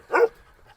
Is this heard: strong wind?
no